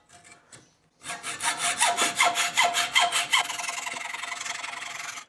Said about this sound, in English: don't cut down the bottom, Mark.